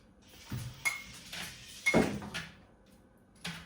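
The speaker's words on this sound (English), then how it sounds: "That's my cat's toy in the background." A few faint, scattered plastic rattles and light clinks from a cat toy sound in a quiet room, spaced irregularly.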